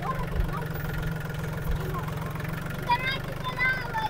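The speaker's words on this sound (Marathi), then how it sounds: "बघू शकता किती मस्त हा लहान मुलगा ट्रॅक्टर चालवतोय." A tractor driven by a small boy runs with a low, steady thumping engine idle close by, while people talk over it and faint birdsong chirps in the background.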